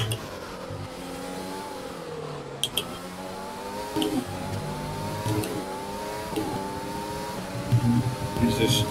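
A Ferrari Formula 1 race car engine in F1 2020 hums steadily at high revs, its pitch climbing and dropping through gear changes, while someone talks over it.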